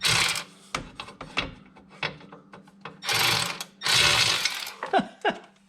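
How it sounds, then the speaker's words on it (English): A shock absorber bolt is worked loose with a ratchet under a 2000 Mercedes E320, giving close, irregular clicking of the pawl, longer grinding rubs and metallic scrapes. "The shock absorber one doesn't want to, so let me try. Just going to try unscrewing it."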